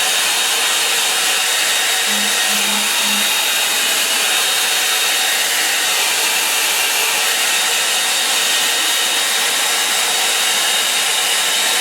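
A hair dryer blows steadily and loudly for the whole stretch, a constant even rushing whir with a few faint low beeps early on.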